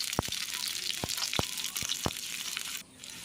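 Onions and white mustard seeds sizzle steadily in hot oil in a pan, with sharp pops and spits rising every so often above the frying hiss, heard up close and without talk.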